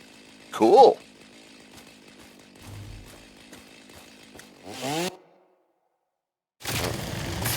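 In the video game Satisfactory, a chainsaw cuts down trees in short separate bursts of raspy whirring with quiet gaps between them, ending in a louder, sustained stretch.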